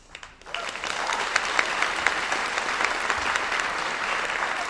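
A commencement audience for an interior design school bursts into applause, rising quickly after a brief quiet start into steady, dense clapping from a large crowd.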